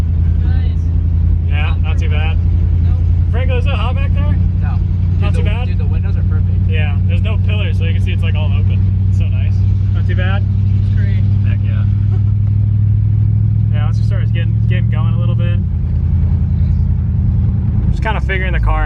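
A Ford Galaxie out on a cruise with its engine running steadily in a deep low drone, while people in the car talk over it almost the whole time.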